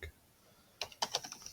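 A computer keyboard clacks as a command is typed at a command line, starting after a near-silent moment with a short burst of quick, close keystrokes.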